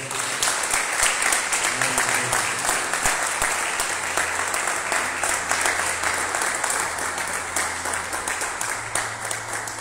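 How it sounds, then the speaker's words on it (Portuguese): Church congregation at a Quadrangular New Year's service clapping in praise, sustained dense applause over about ten seconds with voices and a low tone running beneath it. "Receba aplaudindo ao Senhor."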